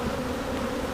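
Honeybees drone steadily around a hive frame in a close, continuous buzz that holds at an even level throughout.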